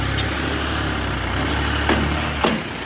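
A John Deere 50 HP tractor engine runs steadily close by with a heavy low rumble, a couple of brief knocks standing out near the end, with no talk.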